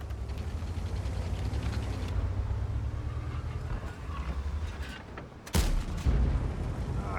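A KJPZ TIII Jäger tank cannon fires in a video game, a loud sharp blast landing after a stretch of engine rumble, followed by a rolling low boom and continued rumbling.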